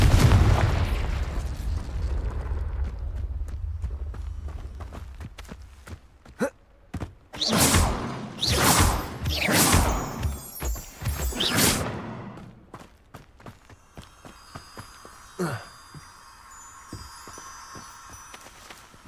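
In a Hogwarts wizarding game, an explosion spell goes off as a sudden deep boom, followed by a series of loud bursts and whooshes with scattered crackles and thuds as the blasts fade.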